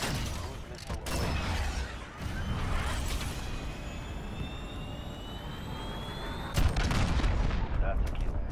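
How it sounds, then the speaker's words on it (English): In a combat video game, a cruise missile launches with a roaring jet rush and rising whine, followed by booming explosions and a sharp blast near the end, loud and close, with voices calling out briefly. "Cruise missile away."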